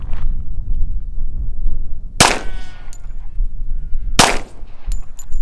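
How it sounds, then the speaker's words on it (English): Two sharp, loud single shots from a Magnum Research .45 pistol fired outdoors, a couple of seconds apart, each followed by a brief ringing tail over a low steady background. "gonna shoot it with the 45 from Magnum Research. And I'm gonna do single shots"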